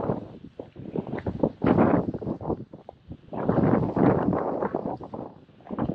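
Heavy wind buffets the microphone on a walk near Žilina, Slovakia, in loud, uneven gusts, producing rumbling blasts that rise and fall throughout.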